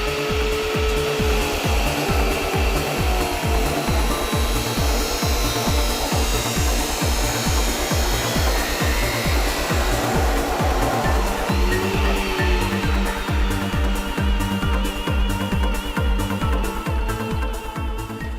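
Welding a steel turbo manifold for a Lexus LS400 1UZ turbo build: a continuous loud crackling buzz with a fast regular pulsing rhythm, close up and steady throughout, with no talk.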